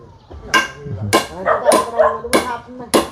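Five sharp hammer blows drive nails into a house ceiling at a steady pace about half a second apart, fairly close, with people talking underneath.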